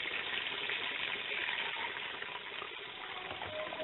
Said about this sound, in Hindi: ये मैं सारा इसमें शामिल करती हूँ, फिर इसको मैं भूनूंगी।